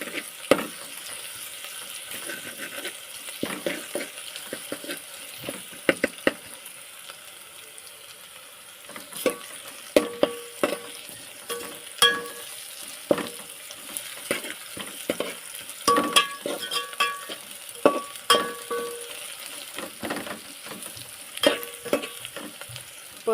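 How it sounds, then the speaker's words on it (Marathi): Ginger, garlic and cumin sizzle and fry in a pan, with repeated scraping stir strokes rising over a steady crackling hiss, close and moderately loud, no voices. "मी आता अद्रक लसूण टाकून दिले आणि थोडंसं जिरं टाकले"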